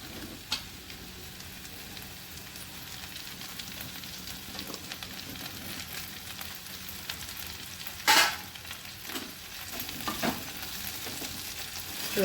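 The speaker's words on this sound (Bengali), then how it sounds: "এবার এটা একটু ভাজা হবে, একটু সেদ্ধ হবে।" Okra frying in oil in a pan gives a steady, close sizzle with scattered crackles and one sharp burst of spitting partway through; no one speaks.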